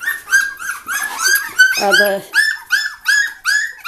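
Portuguese Water Dog puppies whine and yip in a loud, rapid run of high cries, with a brief deeper bark or growl partway through and a voice faintly underneath.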